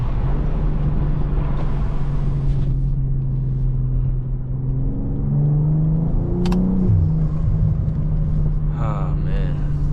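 A BMW M340 with its B58 engine rumbles and revs while driving, a steady low engine drone with rising and falling pitch sweeps midway, heard from inside the car.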